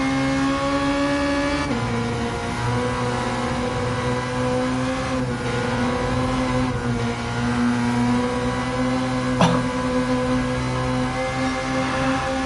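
A Mazda CX-30 in Gran Turismo 7 drones at high revs down a straight, a steady loud engine tone with slight pitch shifts and a brief blip near the end.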